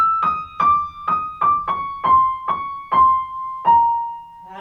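Piano playing a slow passage from Kreisler-Rachmaninoff's Liebesleid, a string of about nine evenly spaced notes stepping gradually downward, each struck clearly and decaying before the next.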